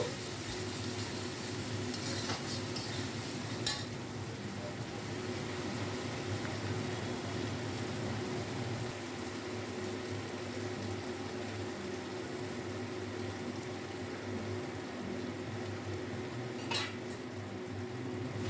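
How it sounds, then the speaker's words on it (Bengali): Ginger paste thinned with a little water is stirred in a cooking pot in a home kitchen, giving a steady scraping and stirring with a few sharp metal clinks over a constant low background hum, with no talking. "এবার ভালো করে আদাটা মিশিয়ে নেব"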